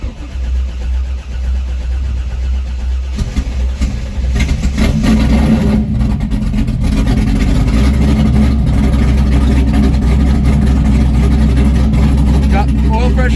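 A newly installed car engine cranks and fires up, then settles into a loud, steady idle with a deep low rumble that carries on to the end.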